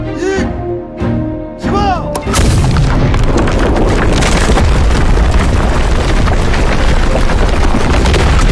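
A big blast erupts at the anti-gang celebration banquet in a TV drama. A deep boom cuts off a steady tone, then a loud, dense roar of debris and rumble holds for several seconds.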